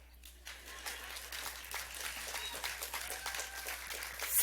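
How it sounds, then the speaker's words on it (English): Scattered applause from a crowd at a university commencement ceremony builds gradually into steady clapping, sounding somewhat distant in a large space. "You can applaud now."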